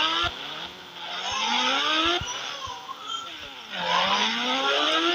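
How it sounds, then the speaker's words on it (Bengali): A motorcycle engine in the video game Indian Bike Driving 3D revs up and down in repeated rising and falling whines, loud and close, with brief thuds between the revs. "তো এখন মোটরসাইকেল দিয়ে মারবো।"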